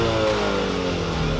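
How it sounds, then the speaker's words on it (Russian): Kia Soul GT Line engine revving through its exhaust with the exhaust valve open, a steady, loud, deep droning rumble held close by for the whole moment. "Алексей, ну ты уже услышал звук выхлопа, попробовал заслонку в действии"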